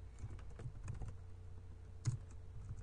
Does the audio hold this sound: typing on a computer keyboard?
yes